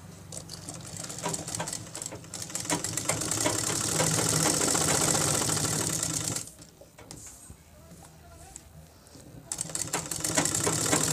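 A sewing machine stitches langot cloth in quick, dense mechanical runs, loud and close, pausing briefly midway before the rapid whirring resumes; no talk over it.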